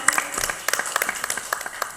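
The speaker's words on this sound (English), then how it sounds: "please invite you on stage with a huge round of applause" Scattered clapping from an audience at an evening keynote event, individual claps spaced irregularly over a couple of seconds, moderately loud and without talk, as a speaker is welcomed on stage.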